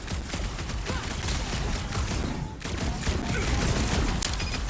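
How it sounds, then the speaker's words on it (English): Rapid bursts of gunfire fill a Guardians of the Galaxy game battle, loud and continuous with dense repeated shots and booms over a cluttered action soundscape. "I'm trying to shoot here!"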